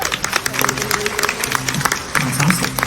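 An audience aboard a Carnival cruise ship breaks into applause, a steady wash of clapping mixed with talk and crowd murmur throughout.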